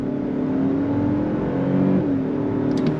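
A 2025 Lexus LX700h Overtrail hybrid SUV accelerates on throttle, its engine note loud and steady with a rising whir throughout, heard up close and alone without talk.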